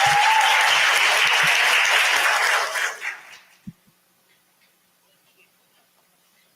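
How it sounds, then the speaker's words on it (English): An audience applauds Martha Maldonado of Old Republic, a full burst of clapping that fades out after about three seconds, leaving near silence with a few faint thumps. "Let's give her another applause."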